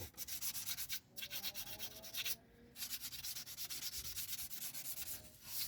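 Emery cloth rubbed back and forth over a rusty brake hub during a Porsche caliper conversion on a VW T5/T6 van, a close rhythmic rasping scrub with a few short pauses between strokes.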